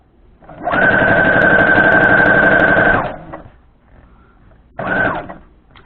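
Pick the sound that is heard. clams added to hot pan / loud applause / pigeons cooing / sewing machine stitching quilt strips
sewing machine stitching quilt strips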